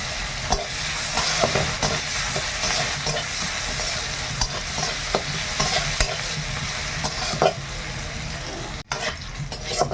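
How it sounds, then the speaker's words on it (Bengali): Onion and green chilies sizzle with black cumin in a pan, loud and close, with a constant fry and repeated scraping stirs throughout. "পেঁয়াজটা ভাজা হয়ে গেছে,"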